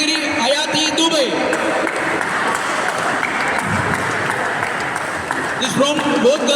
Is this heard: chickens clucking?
no